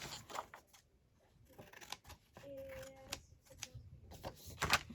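Paper being trimmed for a journal page: a few quiet snips and crisp rustles of paper handled up close, with soft scrapes between them and no talking.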